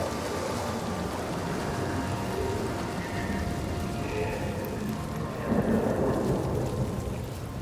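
A thunderstorm in Senua's Saga: Hellblade 2, with rain pouring steadily and deep thunder rumbling low underneath, swelling louder near the end.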